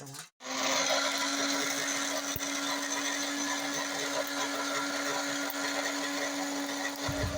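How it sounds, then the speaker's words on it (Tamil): A mixer grinder starts up abruptly and runs grinding coconut with a loud, steady motor whine that holds without a break until the very end. "ஆறுட்டு மிக்சியில் போட்டு அரைச்சிக்கலாம்"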